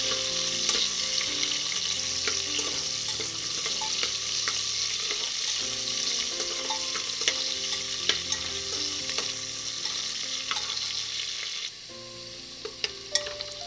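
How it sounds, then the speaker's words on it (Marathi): Chopped onion fries in hot oil with cumin for a bhogi vegetable dish, a steady close-up sizzle and crackle that runs throughout with occasional stirring, over a faint tonal background that drops quieter near the end. "नंतर चिरलेले कांदा, कांदा छान फ्राय करून घ्या."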